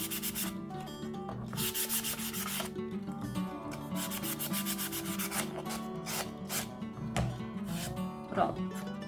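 Fine 320-grit sandpaper rubs over a painted wooden box in quick, repeated back-and-forth strokes, close and clear over soft background music.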